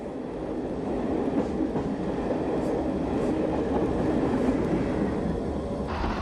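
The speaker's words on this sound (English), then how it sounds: "a Nottingham-bound train heads north near Rickmansworth" A 1960s British train runs on a line near Rickmansworth, giving a loud, steady rumble and rattle of wheels and carriages that holds through the clip, with no voices.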